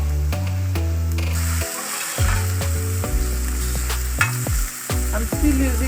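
Omena sizzles and crackles steadily in hot oil, with scraping and clanking of a spoon against the pan at close range.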